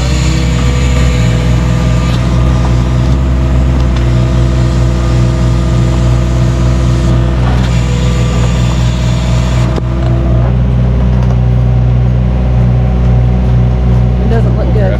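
A truck engine drones loudly and steadily up close, rumbling low with revving swells as the vehicle is moved, while voices talk over it.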